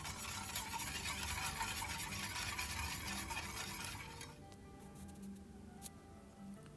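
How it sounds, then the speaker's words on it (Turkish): Steady scraping and swishing of a utensil stirring milk with sugar and starch in a pot over medium heat, continuous at first, then quieter with occasional light clinks. "sürekli karıştırarak orta ateşte üzeri köpük köpük olana kadar karıştıralım."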